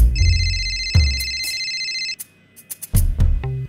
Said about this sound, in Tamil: சேகர், ஃபோன் எடு.